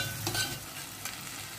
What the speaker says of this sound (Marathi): आलं लसूण पेस्ट छान परतून घ्यायचे त्याचा उग्र वास पूर्ण जाईपर्यंत